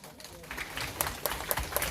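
Children at an elementary Sunday worship service clap for new friends in a quick, even rhythm of sharp claps, fairly faint, with voices mixed in.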